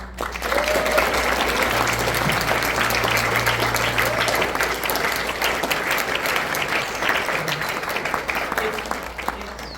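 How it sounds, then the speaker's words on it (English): Theatre audience giving a cast of a stage play another round of applause, full steady clapping over a low hum, with some voices faintly under it, slowly thinning toward the end. "So why don't we give them another round of applause?"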